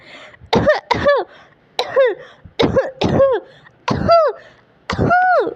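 Rinki, a cartoon bird, coughs hard in a string of about seven loud, raspy bursts, some doubled, each with a squeezed, pitched vocal edge, separated by short pauses and heard alone.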